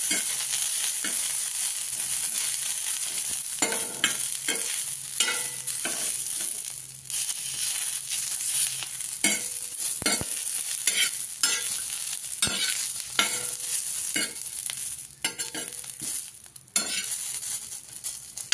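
Green chillies fry for a curd chilli dish, giving a constant bright sizzle broken by frequent scraping strokes of a spatula against the pan.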